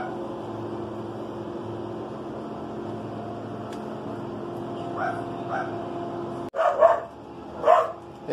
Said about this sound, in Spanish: Ese perro que no para de ladrar.